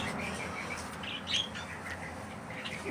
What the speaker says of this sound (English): We found a big bird